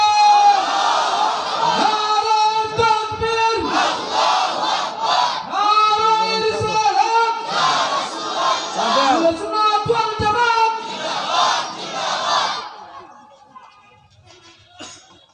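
A large crowd at a Bengali Islamic sermon gathering roars the takbir response in repeated loud, unified shouted chants over about twelve seconds, then fades into quiet.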